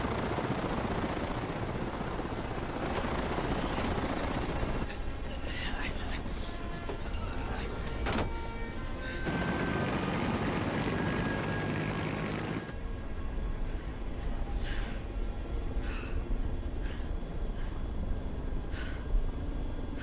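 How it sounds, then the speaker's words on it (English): Helicopter near a facility rigged with a self-destruct system, its steady broadband engine and rotor roar loud and continuous throughout, with abrupt shifts in tone suggesting cuts between positions. "The helicopter's gonna leave."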